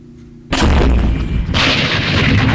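A mortar fires in the Vietnam-era wargame Campaign Series Vietnam: sudden loud booming blast after a quiet start, followed by a rolling rumble and a second surge of crackling report.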